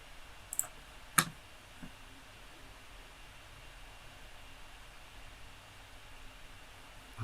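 A couple of sharp, close mouse clicks land near the start as the render button is pressed, followed by a quiet, steady hum of room and computer noise.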